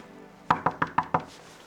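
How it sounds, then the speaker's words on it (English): Five quick, evenly spaced knuckle raps on a hotel room door in a hallway, crisp and close. "first time we ever did a door knock in a hotel hallway"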